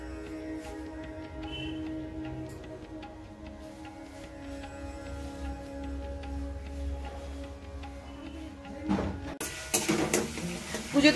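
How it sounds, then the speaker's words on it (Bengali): Spices are fried and stirred in a pan for a fish curry, with faint ticking, scraping and light sizzle under a low background hum. Louder clatter of utensils comes near the end. "এই যে মাছের একটু ঝাল করব, মশলা এখানে কষে নিচ্ছি আর কি"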